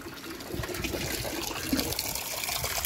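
A child splashes and plays with running water, making a continuous close gushing and splashing sound throughout.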